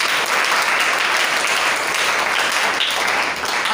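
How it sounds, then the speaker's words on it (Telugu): A church congregation breaks into sustained, dense applause, the clapping loud and continuous for several seconds with no talk over it. "చప్పట్లు కొట్టాలండి."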